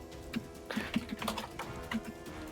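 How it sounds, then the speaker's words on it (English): Loud, rapid computer keyboard typing with irregular clustered keystrokes and a steady low hum beneath. "So a loud keyboard."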